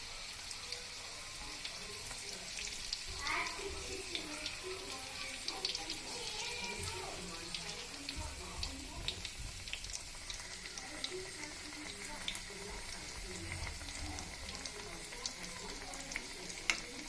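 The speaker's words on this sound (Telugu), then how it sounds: "ఇప్పుడు స్పూన్తో రెండో వైపు కూడా తిప్పుకుంటూ 2 వైపులా క్రిస్పీగా అయ్యే వరకు ఫ్రై చేసుకోవాలి." Homemade chicken nuggets frying in hot oil, a soft continuous sizzle with scattered crackles and occasional light scrapes as a spoon turns the pieces, fairly quiet and steady.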